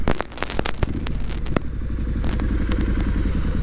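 A Triumph Street Scrambler 900 motorcycle engine runs close by, a steady low rumble with rhythmic firing pulses and some wind buffeting, with no talk over it.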